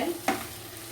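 A single brief scrape of a spoon through vegetables and tomato in a frying pan, with a low steady sizzle underneath and no talking.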